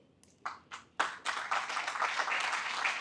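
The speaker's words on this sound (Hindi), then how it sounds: "प्रभांशु जी बहुत ताली बजा रहे हैं" An audience at a lecture at Hansraj College starts with a few scattered claps, then breaks into sustained, even applause that fills the room.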